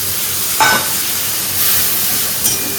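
Ginger and potatoes fry in a pan with a steady sizzling hiss, broken by a few brief stirring scrapes.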